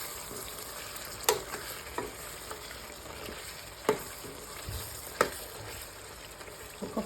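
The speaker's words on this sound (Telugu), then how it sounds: "మళ్ళీ ఒకసారి మొత్తం కలిపేసుకొని" Chicken gravy curry is stirred in a pan: a soft frying hiss underneath, with a handful of distinct spoon scrapes and knocks against the pan spread out over several seconds, close and without speech.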